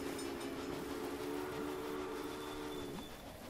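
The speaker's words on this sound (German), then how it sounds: "Da kommt schon wieder der nächste Zug, der hat schon wieder Passagiere dabei." A passenger train arriving in the Railway Empire video game: a continuous rumble of wheels with a sustained, droning horn-like tone that falls away near the end, steady and fairly loud throughout.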